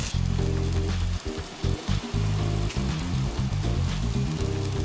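Rack of lamb sizzling on a charcoal grill, a loud dense crackling sizzle that runs steadily and close throughout with no voices.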